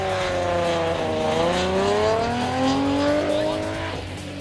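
A Nissan 350Z race car corners hard, its engine note sweeping down then climbing again as the tires squeal through the turn, loud and near with no talk.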